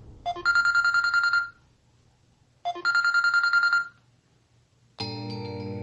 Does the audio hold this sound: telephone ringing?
yes